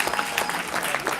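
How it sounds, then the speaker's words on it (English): Audience applause for the CricMax Eagles, the under-11 winners of a CricMax Cricket Academy tournament in New Jersey, as a steady, dense crowd clapping across a short burst with no talk over it. "So a round of applause to them."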